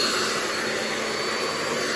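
A handheld blow dryer drying hair during a salon wig install, giving a steady, loud, continuous airy whoosh with a motor whine running throughout, with no talking.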